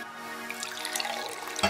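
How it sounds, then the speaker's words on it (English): Water pours into a beaker for a children's science experiment, a close, bubbling trickle ending in a sharper splash. "Ready to pour the water?"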